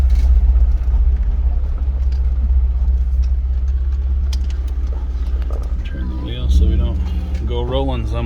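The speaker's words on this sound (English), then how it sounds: "we're going to drive right down to the actual boat launch" A steady, loud low engine rumble of a car driving down to a boat launch, with a voice speaking over it near the end.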